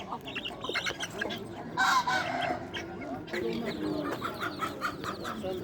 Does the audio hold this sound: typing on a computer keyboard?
no